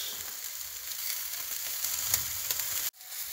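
Pork neck steaks sizzle on a braai over an open fire, a steady loud crackling fry that cuts out briefly near the end.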